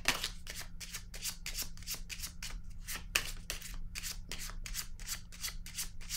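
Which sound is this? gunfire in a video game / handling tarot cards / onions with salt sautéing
handling tarot cards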